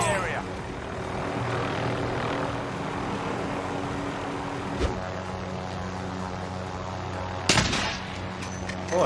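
A helicopter in the video game Warzone drones steadily throughout over a dense, noisy battlefield bed, with a couple of sharp impact bursts breaking through midway and near the end.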